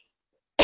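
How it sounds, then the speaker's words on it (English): A single close, sharp cough bursts out after near silence, loud and abrupt. "Excuse me, I'm going to cough."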